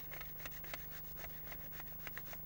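Courgettes rubbed over a fine kitchen grater in quick, even rasping strokes, close and fairly soft, with no talking.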